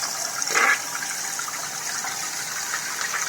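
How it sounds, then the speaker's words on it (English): A toilet flushes up close, a short loud gush of water followed by a steady rushing hiss of the tank refilling and draining, with no voices. "I'm going to flush it."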